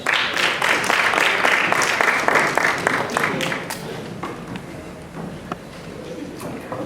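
Warm audience applause at the opening of a schools drama festival, loud dense clapping that gradually thins and fades toward the end, with scattered individual claps remaining.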